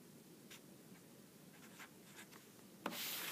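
A pencil scratches on paper, drawing small strike and dip symbols for a structural geology cross-section. Several quiet, brief strokes come at irregular intervals in a hushed room, and a louder rustle of paper ends the moment.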